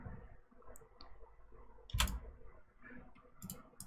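A single sharp mouse click starts play in a game engine while testing an attack system, heard once near the middle over a low, quiet room background with no talking.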